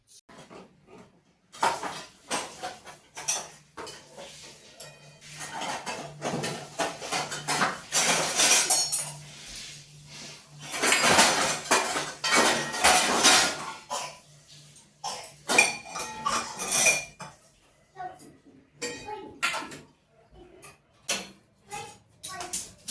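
A young girl puts away small pots and dishes in a home kitchen, with repeated clinks and clatters of metal utensils coming in irregular bursts, close by and fairly loud, with short pauses between.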